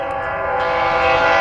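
CSX mixed freight train heading north through Marion, Ohio, a loud, sustained tonal blare like a horn over steady rolling rumble, close and continuous for the whole short stretch.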